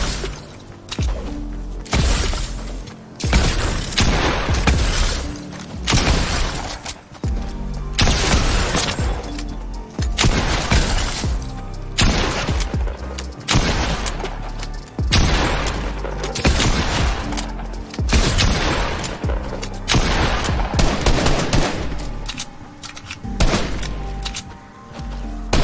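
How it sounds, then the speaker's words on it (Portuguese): Gunfire crackles through a Fortnite match: a long, loud run of sharp sniper shots and impacts repeating in dense bursts, with no speech over it. "Ih, sniper. Sniper, família, sniper."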